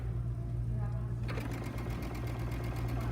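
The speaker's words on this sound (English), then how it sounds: "I'm just going to stitch a straight line again so that we have a seam allowance" Sewing machine running a straight seam, a fast, even stitching rattle that starts partway in and continues to the end over a constant low mechanical hum.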